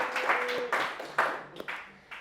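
Applause from an audience at a business conference in Tenerife, a short burst of clapping with a cheer rising over it, near and fairly loud, then fading.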